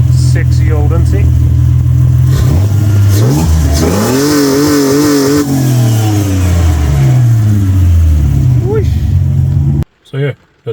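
A Ford EA Fairmont with its 4.0-litre six runs and revs loudly up close, the pitch rising and falling through repeated throttle blips before cutting off abruptly near the end; a voice talks briefly over it.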